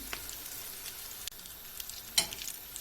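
Steady crackling sizzle of potato patties frying in hot oil, with a couple of sharp pops and clicks, fairly quiet and close.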